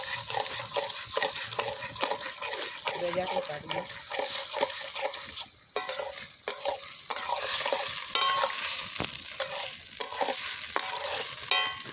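Poppy seed curry stirred in a frying pan at an outdoor picnic cookout, a steady scraping and sizzling that runs throughout with voices chatting over it.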